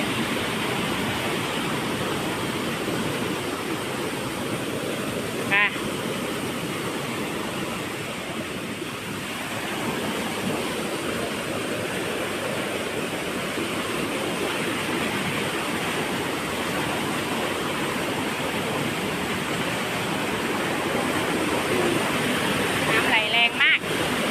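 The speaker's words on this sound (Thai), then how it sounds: "น้ำไหลยางแรงเลย" Loud, constant roar of water rushing over a weir, a broad steady wash with brief voices breaking through now and then.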